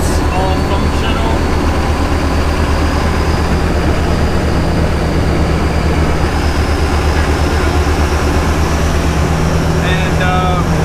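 A Jeep fitted with a swapped-in Cummins diesel drones steadily while driving, a constant low engine rumble with road and cabin noise, loud and close from inside throughout.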